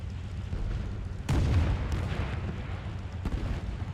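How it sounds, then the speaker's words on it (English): Anti-aircraft guns open up in War Thunder during a Ki-44-II Hei flight, heavy booming bursts over a constant loud engine drone. One strong blast lands mid-stretch and a sharper report follows near the end. "AA guns start to open up."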